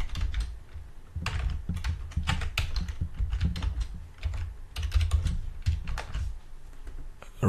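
Someone types Android code on a computer keyboard: fast, uneven clatter of close keystrokes with brief pauses and no talking.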